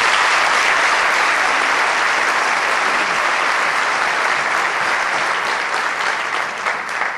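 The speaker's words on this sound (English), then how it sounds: "Please give them a round of applause" Continuous applause from an audience at an opening ceremony for an Assyrian cultural event in Skokie, a thick wash of many hands clapping at a steady, loud level throughout.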